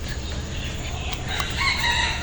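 A rooster crows loudly and nearby among clucking hens at a chicken coop in the morning, over a steady low hum.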